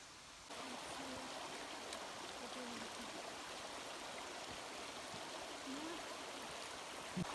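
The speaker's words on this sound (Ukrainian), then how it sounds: "Водоспад в Карпатах перший." A mountain waterfall stream in the Carpathians rushes steadily, a continuous broadband wash that stays loud and even throughout.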